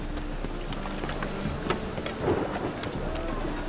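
Rain falls steadily in The Witcher 3 with a low rumble of thunder beneath, soft pattering taps scattered over the constant wash, and faint voices in the background.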